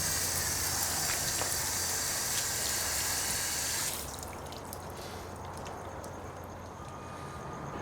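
Water drains through a freshly repotted raft-style Shimpaku juniper bonsai pot, a steady broadband trickle and drip that runs loud for about four seconds, then drops to a quieter, continuing seep.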